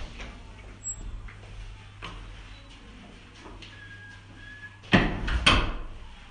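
A building exit door opens after the release button is pressed: a faint electronic tone, then a sharp near clunk and rattle of the door swinging open, with quieter footsteps and room hum before it.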